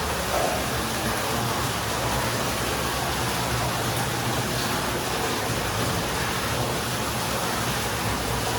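Water gushes from a borewell pump and pours down like a waterfall, making a loud, continuous rushing noise with no break and no voices.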